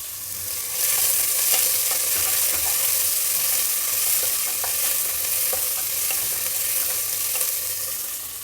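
Two medium-sized, finely chopped onions fry in a pan and are stirred, giving a continuous close sizzle with scraping and clinking stirring sounds running steadily throughout.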